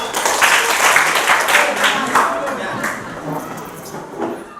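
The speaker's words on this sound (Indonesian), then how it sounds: "kita berikan aplaus sama-sama" Audience applause in a classroom teaching session, a steady wash of many hands clapping for about four seconds, fading slightly toward the end with some voices mixed in.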